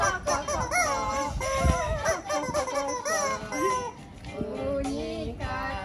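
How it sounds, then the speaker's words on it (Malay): Chicken clucking in a sing-along children's song, a busy run of bright, wavering calls lasting several seconds at steady loudness. "Ayam kok kok kok kok kok."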